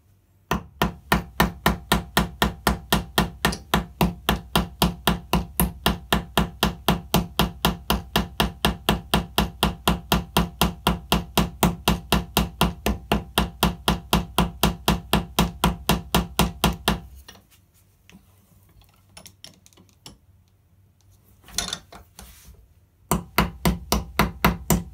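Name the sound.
8 oz ball hammer shaping rivet heads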